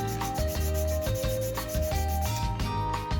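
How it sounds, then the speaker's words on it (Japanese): Sandpaper of 180 grit is rubbed by hand along the back of a carved wooden 150 mm sinking minnow fishing lure, giving short rhythmic scratchy strokes over a steady tonal background. "背側は普通に手で持ってサンディングします"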